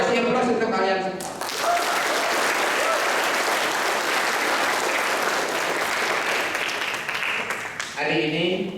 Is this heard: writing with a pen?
no